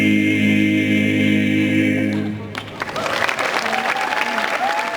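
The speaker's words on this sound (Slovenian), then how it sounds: "Najlepša hvala za tako bujen aplavz." Audience applause at a high school diploma ceremony in Ljutomer, a loud sustained clapping crowd that swells after a fading held musical chord, continuing to the end.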